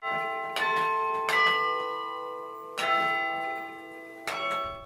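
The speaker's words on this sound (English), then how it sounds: "He's playing the keyboard in a carillon." Carillon bells in Luther Tower at Concordia Seminary, played from the keyboard, ring out in several loud struck chords, each bright strike leaving long, overlapping tones hanging before the next.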